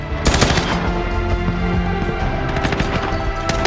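Rapid automatic gunfire in the Call of Duty Modern Warfare video game, a loud, dense, continuous stream of shots with heavy rumbling booms and no voices over it.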